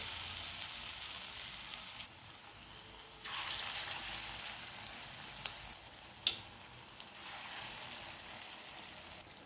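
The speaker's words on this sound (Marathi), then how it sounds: "इकडे आपलं तेलही गरम झालं आहे आता आपण यामध्ये हे कटलेट करून घेऊया" Vegetable cutlets frying in hot oil in a pan give a continuous sizzling hiss that swells louder partway through, with a faint tap or clink now and then.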